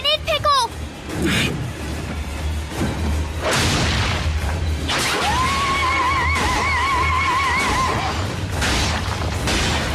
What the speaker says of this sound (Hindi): उस पर ग्रेनेड फेंको।